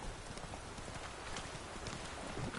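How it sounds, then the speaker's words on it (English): Steady clip-clop of a horse galloping along a shore in The Witcher 3, hoofbeats dense and continuous at a constant loud level with no talk over them. "Running along the shore on my horse called Roach."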